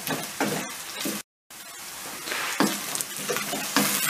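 Borlotti beans are sautéed with other ingredients in a pan, giving a loud, continuous sizzle broken by scraping stirring strokes and a brief silent cut.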